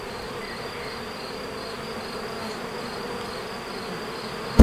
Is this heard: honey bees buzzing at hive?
yes